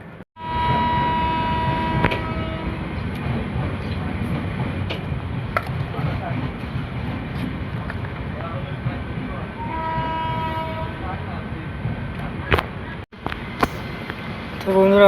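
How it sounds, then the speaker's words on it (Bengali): The Uttarbanga Express pulls out of Falakata station, its diesel engine rumbling loudly and continuously with wheels rolling on rails, while short horn blasts sound around two, ten and twelve seconds, heard from aboard the train. "আমাদের ট্রেন ফালাকাটা স্টেশন থেকে ছেড়ে দিল।"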